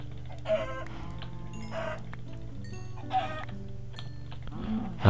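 Chickens clucking in the Minecraft video game, several short clucks spaced over a steady low game background hum, fairly close and moderately loud with no voices.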